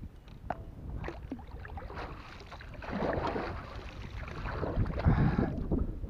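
Wind gusting across the water while fishing for peacock bass from a small boat, a steady broadband rush that swells louder toward the end, with faint knocks and splashes and no talking.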